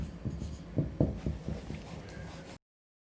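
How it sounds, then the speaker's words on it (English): A pen scratches out the answer to an SSC 10th algebra problem on paper, a run of soft, close strokes and taps with a couple of sharper accents, then it stops. "Then write down the answer."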